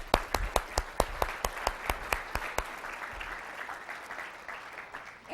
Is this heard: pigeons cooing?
no